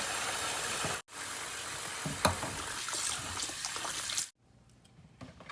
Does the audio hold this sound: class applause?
no